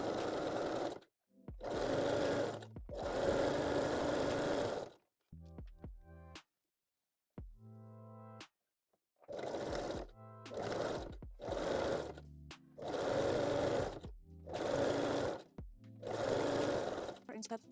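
A sewing machine runs a zigzag stitch to attach stretched elastic to the waistline of a bikini bottom made from panties, in several loud, steady bursts separated by short pauses.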